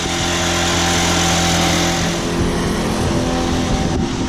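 An engine running hard at 5,000 RPM with the rev limiter removed and bacon grease in place of oil, producing a continuous loud, close droning roar with no voices.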